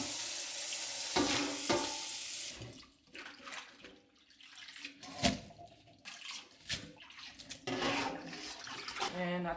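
Water splashes and runs steadily as vegetables are washed in a sink, with intermittent swishing and a few louder splashes.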